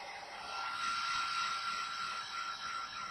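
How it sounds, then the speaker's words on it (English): A steady whooshing hum of a hair dryer on a warm setting drying a car dashboard, blowing continuously, fairly close, with no voices. "hit this with the hairdryer a little bit and dry that up"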